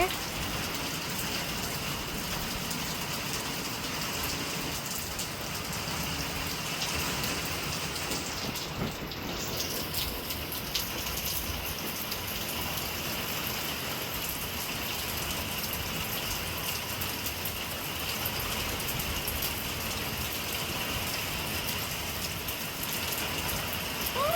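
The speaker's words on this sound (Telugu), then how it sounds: "వాన మాత్రం అసలు తగ్గట్లేదు చాలా నల్లగా మూసేసింది వాన అయితే" Steady, dense rain hiss from a storm fills the whole stretch without pause, a constant wash of heavy falling water with no voices.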